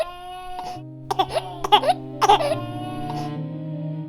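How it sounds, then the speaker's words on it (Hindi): A baby cries from inside a pagoda as a story sound effect, a series of short wailing sobs rising and falling over a sustained musical drone, heard close and fairly clear. "एक दिन पगोडा के अंदर से बच्चे के रोने की आवाज आती है।"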